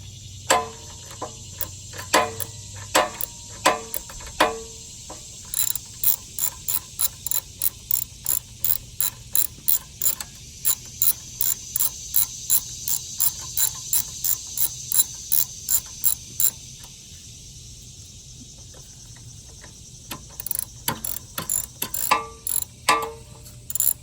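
Ratchet wrench with metric sockets loosening bolts on an old pressure washer being restored, giving close, crisp bursts of rapid clicking pawl strokes in repeated runs separated by short pauses, with no talking.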